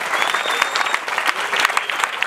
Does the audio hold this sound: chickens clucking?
no